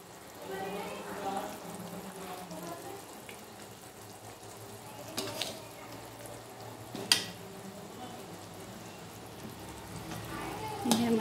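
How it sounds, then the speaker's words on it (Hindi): Bottle gourd kofta balls simmering in a boiling garlic gravy, a faint low bubbling with a few utensil clinks and soft knocks. "हम बॉल्स को हम डाल के 5 मिनट पकाएंगे ताकि अच्छे से लहसुन में ये मिक्स हो जाए।"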